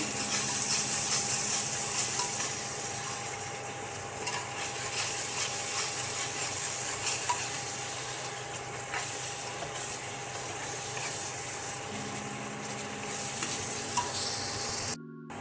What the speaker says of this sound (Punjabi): ਤੇ ਹੁਣ ਆਪਾਂ ਮਸਾਲੇ ਨੂੰ ਚੰਗੀ ਤਰ੍ਹਾਂ ਭੁੰਨਾਂਗੇ ਸੁੱਕੇ ਮਸਾਲੇ ਪਾ ਕੇ